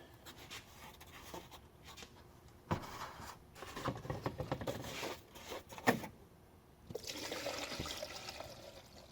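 Leftover soapy water sloshes and pours out of a container, with bursts of splashing and gurgling among handling knocks and clunks, fairly faint and close.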